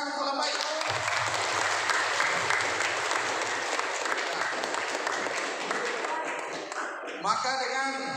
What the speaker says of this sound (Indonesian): Tepuk tangan untuk Lambai.